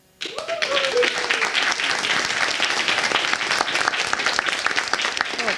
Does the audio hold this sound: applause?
yes